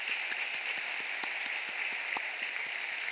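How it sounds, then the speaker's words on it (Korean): A crowd applauds continuously at a seminary lecture gathering, a dense wash of many hands clapping at a steady level, heard from within the audience. "우리 함께 박수 쳐주시기 바랍니다"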